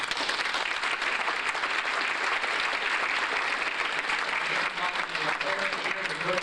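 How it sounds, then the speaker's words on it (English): An audience applauds at a sports banquet honoring a girls basketball team, a steady, dense burst of clapping throughout, with faint voices surfacing near the end. "one more round of applause for our girls basketball"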